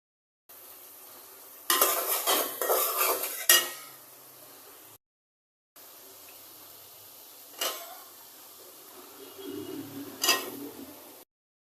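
Potatoes with spices being sautéed in a pan for a tilapia curry, with spatula scrapes and clinks over a soft sizzle, two bursts of stirring separated by a short gap, close and moderately loud.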